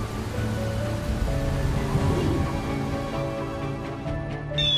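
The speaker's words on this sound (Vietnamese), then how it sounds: "Mưa mỗi lúc một to" Heavy rain pours down during a thunderstorm with lightning in an animated folk tale, a steady dense hiss over a musical score that continues without a break.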